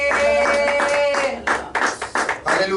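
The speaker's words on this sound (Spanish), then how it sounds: "denle un aplauso fuerte al Señor" A church congregation claps during a service, uneven bursts of hand claps that grow in the second half, with a voice speaking over the opening.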